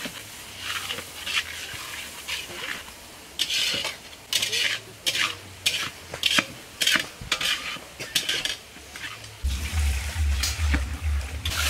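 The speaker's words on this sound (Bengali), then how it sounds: "মশলা কষা হয়ে গেছে, মশলা থেকে তেল ছেড়ে দিয়েছে।" Spice paste for chicken curry, with tomato, ginger paste and cumin paste, fries in oil while a spoon scrapes the pan in repeated clattering strokes over a constant sizzle, cooked at a garden house.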